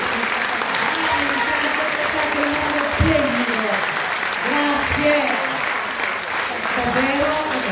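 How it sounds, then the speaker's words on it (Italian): A theatre audience at a Sardinian-language play applauds in a steady, dense wash of clapping that fills the whole stretch, with voices audible over it. "goditi questo applauso"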